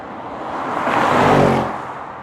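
Audi RS6 engine rising in revs while driving, a broad whooshing roar that swells to a peak mid-clip and then fades, close and alone without talk.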